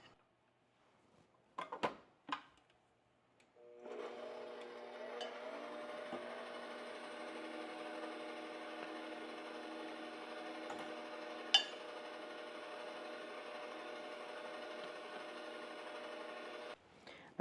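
Electric mixer beating egg whites with sugar and cocoa powder, a steady whining hum running from about four seconds until near the end, preceded by a few knocks and clatters.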